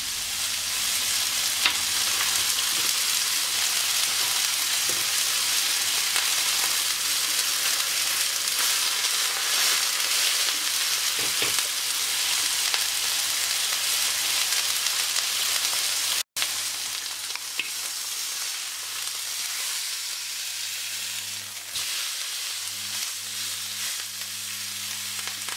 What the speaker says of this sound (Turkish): öncelikle dana bonfilemizi mühürlüyoruz. Her yerini, dört bir yanını.